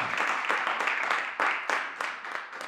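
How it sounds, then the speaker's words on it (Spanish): A church congregation applauds with strong, rhythmic clapping, many hands beating together in a steady pulse that continues without a break. "Den un aplauso al Señor, por favor, con toda su fuerza"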